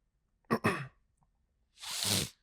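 Two sneezes in quick succession: a sharp double burst, a pause, then a longer, breathier sneeze, close and otherwise quiet.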